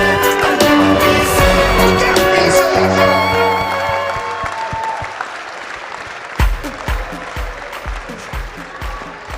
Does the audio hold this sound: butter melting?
no